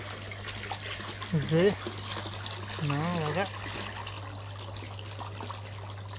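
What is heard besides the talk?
pool pump pushing water through a pool vacuum hose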